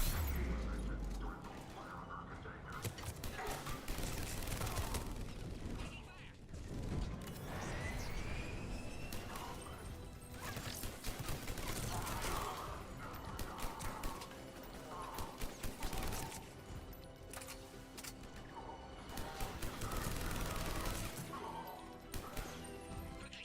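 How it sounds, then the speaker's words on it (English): Sustained combat in Mass Effect 3 on Veteran difficulty at a checkpoint under attack, dense overlapping gunfire and impacts forming a loud, continuous barrage with sharp cracks and booms throughout, mixed with game music and effects. "They're under fire."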